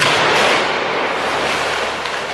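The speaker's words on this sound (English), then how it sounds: "Nolan used high-pressure air cannons to blast real debris around the actors." High-pressure air cannons blasting real debris around actors on a film set, a dense, loud roaring rush of scattering fragments that holds steady and then eases slightly.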